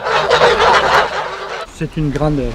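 Geese kept on a foie gras farm give a couple of short nasal honks after a stretch of rushing broadband noise.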